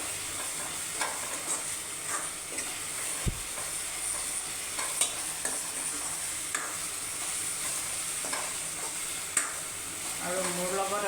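Stirring a dish in a pan with kasuri methi, a low steady sizzle broken by scattered scrapes and knocks of the spoon against the pan, faint and fairly close.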